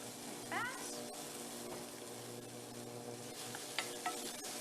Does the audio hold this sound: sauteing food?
yes